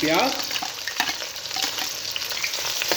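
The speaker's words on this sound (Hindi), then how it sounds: "प्याज हमारे अच्छे से फ्राई हो चुके हैं" Onions fry in hot cooking oil with a dense, close sizzle and scattered crackling pops, accompanied by light stirring and a brief voice at the start.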